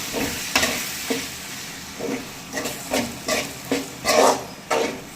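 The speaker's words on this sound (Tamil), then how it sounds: "இப்போ இதை நல்லா கிளறி விட்டுக்கலாம்." Ground masala paste being stirred in a hot pan for Tamil crab curry, a steady sizzle broken by seven or eight rhythmic scraping strokes of the spoon, close and moderately loud.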